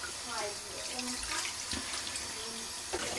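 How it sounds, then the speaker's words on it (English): Tap water runs as tilapia fish are rinsed, a steady splashing gush in a sink with shifting gurgles, close by, while a person speaks over it. "we only have to rinse with water and set it aside to marinate."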